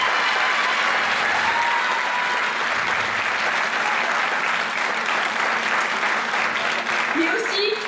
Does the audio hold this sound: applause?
yes